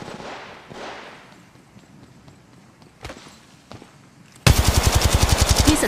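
Rapid automatic gunfire in the mobile battle royale game Apex Legends Mobile erupts loud and close in a sustained burst near the end, after a stretch of quieter scattered game sounds.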